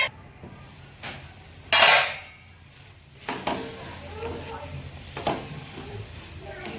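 Semolina handvo flipped over in a pan sizzles steadily, with a sharp burst of frying noise followed by clinks and scrapes of a spatula against the pan, close and moderately loud.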